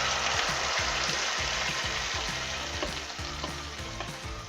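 Loud, steady sizzling of ground paste frying in a hot pan for paneer butter masala, with rhythmic scraping strokes of stirring throughout, no voices.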